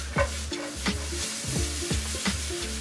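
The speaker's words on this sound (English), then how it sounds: "We're gonna add our onions." Onions sizzle as they hit a hot pan with crispy bacon, a steady close frying hiss broken by several sharp scraping stirs, with no talking.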